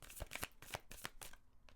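A deck of tarot cards being shuffled by hand, a quick run of crisp riffling flutters close up with brief pauses between bursts, quiet and alone.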